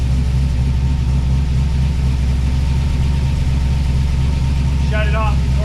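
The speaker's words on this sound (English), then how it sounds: "But I'm so excited to feel that transmission shift into gear and to hear it idling like this." A 1979 Pontiac Firebird engine idles steadily, a loud continuous low rumble throughout, with a brief faint chirp or squeal near the end.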